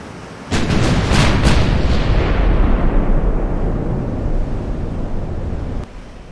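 Naval guns open fire on an enemy battle cruiser in Ultimate Admiral Dreadnoughts, a game about dreadnought-era warships. A sudden deep boom with a few sharp cracks swells into a long, roaring rumble that slowly fades, followed by one fainter thump near the end.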